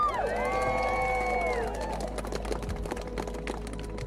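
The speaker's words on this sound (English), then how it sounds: "And a big round of applause for the writers who created all these awful people." A crowd at a vampire LARP event in Texas cheers and whoops for the writers, voices rising together in a loud burst that thins out over a few seconds, with a steady background hum underneath.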